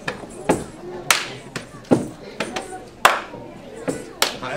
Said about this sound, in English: just hand clapping.